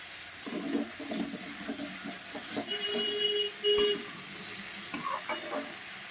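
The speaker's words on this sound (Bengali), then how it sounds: "আর দিয়ে দেবো হলুদ আর একটু কষিয়ে নেব কষিয়ে আমি শাকটা দিয়ে দেবো" Greens with turmeric and prawns sautéing in a pan, a faint steady sizzle under intermittent stirring scrapes and a sharp clink or two.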